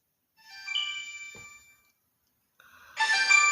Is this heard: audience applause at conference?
no